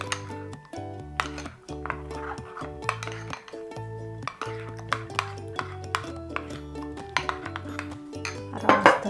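A utensil clinks and scrapes rhythmically against a bowl while chocolate ganache with peanuts is stirred, sharp close taps repeating every half second or so over a soft musical background.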